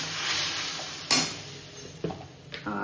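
Ground poppy seed and mustard paste fried in oil with panch phoron and a bay leaf gives a steady sizzle, broken by a few scraping knocks of a spoon stirring in the pan.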